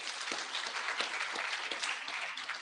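Steady applause from an audience at an International Women's Day celebration in Kenya, dense and sustained crowd clapping filling the whole stretch at an even level.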